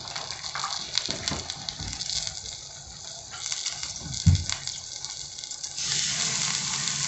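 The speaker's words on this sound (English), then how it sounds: "and then I'm going to add some water." Water pours and splashes into a pot in an uneven stream, with a bump and clatter partway through and a steadier gush toward the end.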